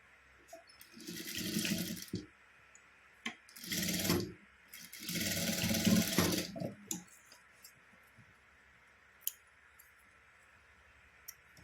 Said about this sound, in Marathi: इथून अशी शिलाई मारून घ्यायची आहे.